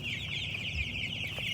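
Young chicks in a coop cheep and cluck steadily together, a continuous near chorus of high peeping with no talk over it.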